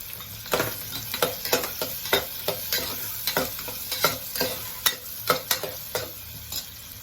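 Onions sizzle steadily in a hot pan while a utensil stirs them in repeated scraping strokes, close and moderately loud, with no talking; frying for a peas and corn biryani.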